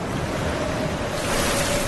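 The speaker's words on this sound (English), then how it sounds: "The waves are something today." Ocean waves wash against a sailboat on an Atlantic crossing, a steady broad rushing surge with wind buffeting the microphone, loud and continuous throughout with no voices.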